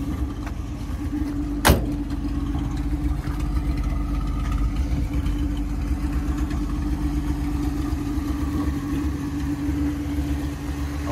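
An old car with a three-speed overdrive transmission runs at a steady idle, a low continuous engine hum with a single sharp click partway through, with no talking.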